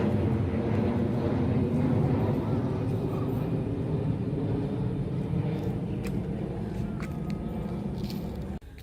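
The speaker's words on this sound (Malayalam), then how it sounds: "വിമാനം പോണ്ട്" A passenger airplane passes over a rural village, heard as a broad, steady roar that holds strong for several seconds before easing toward the end.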